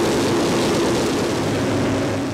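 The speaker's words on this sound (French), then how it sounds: "Rares sont aujourd'hui les DC-4 en état de vol." A Douglas DC-4 four-engine propeller airliner flies past, a loud steady droning engine roar filling the whole short stretch and easing slightly at the end.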